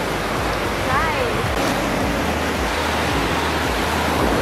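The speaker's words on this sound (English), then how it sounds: "You hear the waves?" Ocean surf rolling onto Myrtle Beach, a steady broadband wash of breaking waves close to the microphone, continuous throughout with a brief faint voice near the start.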